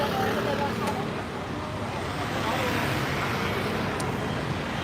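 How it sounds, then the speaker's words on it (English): Street traffic on Bui Vien in Vietnam, a steady loud wash of passing cars and motorbikes in a busy crowded street, with a couple of brief high horn-like tones and faint voices in the background. "And traffic is coming both ways, so just gotta wait for the break."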